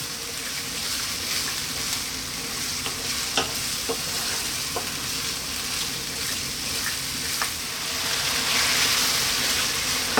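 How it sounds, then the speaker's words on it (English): Chopped tomatoes cook in a pan for a stuffed eggplant dish with ground beef, giving a steady soft sizzle with occasional scrapes and taps of a stirring utensil, close and alone, growing slightly louder toward the end. "Cook these tomatoes out. So it's going to be like 6 or 7 minutes maybe. Give it a stir every now and then."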